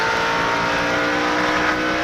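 Race cars in the 2002 Checker Auto Parts 500 roar through heavy traffic, with a dense, continuous engine drone and no pause.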